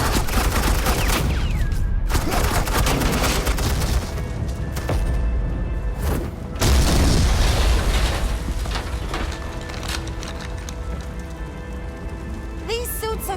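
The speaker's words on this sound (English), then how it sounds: "Suppressing fire." Sustained suppressing gunfire in the Batman: The Enemy Within video game, a dense, continuous rattle of shots with booming bursts, loud throughout with voices briefly under the din.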